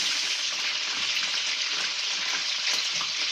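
Steady, loud sizzle of cherry bacon cooking in butter in a hot pan, a close and continuous crackling fry with small pops, no voices over it.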